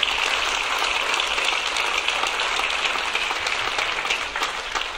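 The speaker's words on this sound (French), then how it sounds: "On peut applaudir très fort." An audience at a medal ceremony in Chelles claps loudly and steadily, a dense, sustained roar of hands with no pause across the whole stretch.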